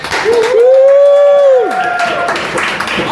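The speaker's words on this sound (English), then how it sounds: "Can we give a big old cheer for the beautiful loose cannon?" A small group in a bar in Skagway cheers, led by a long, loud held whoop, then breaks into scattered clapping and shouts close by.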